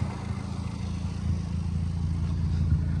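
Volkswagen Jetta with a failing clutch, heard from inside as a steady low engine drone with a rough, rumbling mechanical undertone, moderately loud and continuous, no talk.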